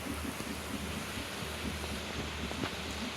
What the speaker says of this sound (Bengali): কীরকম ঝমঝম ঝমঝম করে বৃষ্টি।